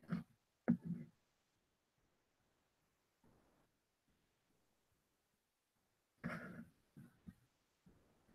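A dog whimpering and whining indoors in short, faint bursts separated by long quiet gaps, with a cluster of soft cries near the start and another toward the end.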